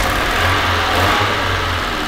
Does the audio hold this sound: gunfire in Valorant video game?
no